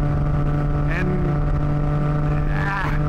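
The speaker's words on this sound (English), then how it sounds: "especially with the Zard exhaust, it is very loud." Triumph Tiger 660 Sport motorcycle with a loud Zard exhaust, engine droning steadily at high revs with a strong low hum throughout, a brief word spoken over it.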